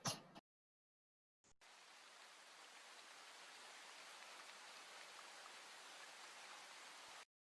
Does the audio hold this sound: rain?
yes